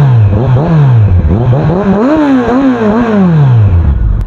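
A stock Kawasaki Versys 1000 motorcycle engine, lightly modified, revs up and down repeatedly close by, its loud pitch rising and falling in steady sweeps with no talk over it.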